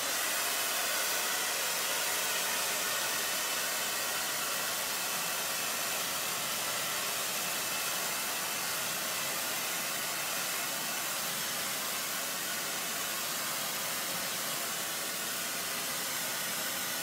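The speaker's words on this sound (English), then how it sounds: "All right, so quickly with the hairdryer again." A hair dryer blows continuously at close range over watercolor paint, a loud, steady rushing roar of air that holds unchanged throughout.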